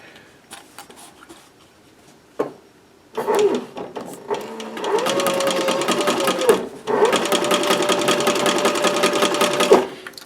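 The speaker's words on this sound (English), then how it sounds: "First step of sewing, if you're using a similar machine, this is a Cobra 26" A Cobra 26 sewing machine stitches a cloth mask, running in steady rapid bursts with a humming whir and a brief pause between runs, preceded by a few light clicks and taps.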